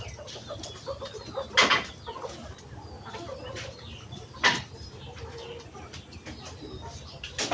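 Chickens cluck in short bursts from a newly repaired cage on a wooden-framed stand, with two louder calls standing out over a steady low background hum.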